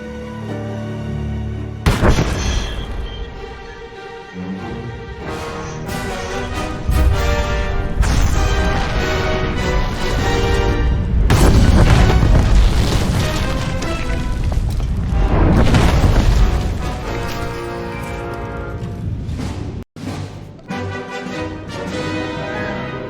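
An explosion in the video game Star Wars: The Old Republic, a loud booming blast followed by long rumbling and crashing debris with layered game music, lasting about twenty seconds.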